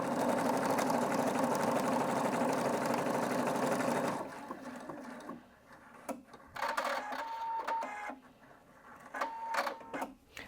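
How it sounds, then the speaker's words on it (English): A Husqvarna Viking Brilliance 75Q sewing machine runs steadily for about four seconds while stitching a decorative stitch, then stops, leaving quieter clicks and small mechanical movements afterward. "Let's go ahead now and stitch out the first decorative stitch."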